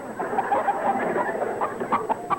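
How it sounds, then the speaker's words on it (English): A baby chicken peeps in quick, high, overlapping chirps that run continuously at close range over a soft background hiss. "it sounds like a baby chicken."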